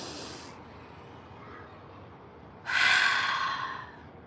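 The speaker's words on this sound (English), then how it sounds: "And then you want to take another deep breath." Deep breathing, in through the nose and out through the mouth: two close, airy breaths separated by a quiet pause, the second longer and louder.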